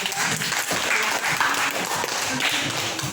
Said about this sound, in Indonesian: Kalau begitu tepuk tangan dulu untuk kelompok